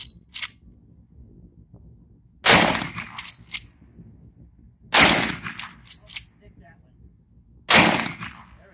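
Three loud, close shots from a Henry 45-70 Government All Weather lever action rifle fired at jugs outdoors, each a sharp blast with a rolling echo, spaced a few seconds apart, with faint voices between them.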